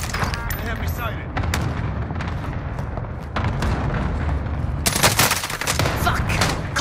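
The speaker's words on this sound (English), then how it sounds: "Enemy cluster strike incoming. Take cover." Cluster strike explosions and rapid gunfire in the video game Call of Duty Warzone: loud booming blasts and bursts of automatic fire that intensify toward the end, with voices talking throughout.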